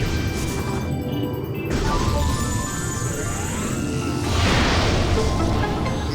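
In the Metroid Prime video game, a super missile strikes and breaks a destructible material, giving a crashing smash with whooshing sweeps, followed by a louder burst of crumbling debris near the end, all over a constant game ambience.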